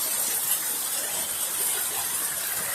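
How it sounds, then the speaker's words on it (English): Record September rainwater gushes out of a gutter in a dense, steady rush that holds at a constant, fairly loud level throughout, with no voices. "look at how much water's coming out of there now"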